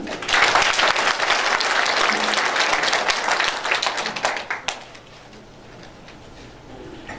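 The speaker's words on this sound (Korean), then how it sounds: "응원의 박수 부탁드리겠습니다" Audience applause at a city mayor's public address, dense and steady clapping that holds for about four and a half seconds, then thins out and fades to a quiet room.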